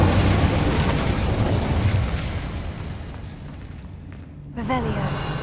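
The Incendio fire spell bursts in Hogwarts Legacy as a loud, roaring, explosive rush of flame that slowly fades, followed by a short crackling burst near the end.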